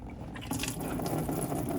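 Green coolant pours out of a container while a Mercedes M112 water pump is being replaced, a short gurgling liquid splash that starts abruptly and runs on steadily.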